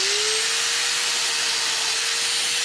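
A DualTools CS300 dual saw cuts through fragile PVC with a loud, steady motor whine and a constant rough cutting hiss that hold evenly from start to finish, close by with no talking.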